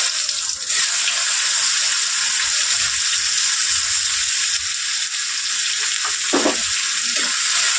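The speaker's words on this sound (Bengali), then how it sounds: "পেঁয়াজটা একটু ভেজে নেবো লাল লাল করে" Chopped onion hits hot oil with two small cardamom pods and whole cumin seeds, setting off a loud, continuous close sizzle that stays even throughout, with a few faint knocks underneath and no talking.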